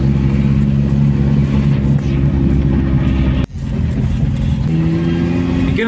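A 1971 Datsun 1200 pickup truck engine running steadily while driving, a loud close mid-pitched drone heard from inside, with a brief dip partway through before the engine pulls on again, no talk.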